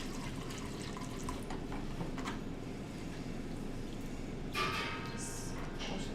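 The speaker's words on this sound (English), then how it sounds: "Just wash it like this." Food with sand in it, salted and then rinsed under a running faucet, giving a steady close splash and trickle of water for the whole stretch, with a brighter spray near the end.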